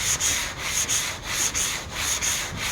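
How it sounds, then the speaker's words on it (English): A 1970 Chevelle car hood being block sanded by hand with sandpaper: steady, close, rasping strokes in a back-and-forth rhythm with short pauses at each turn, alone and without talk. "I always sand to the line"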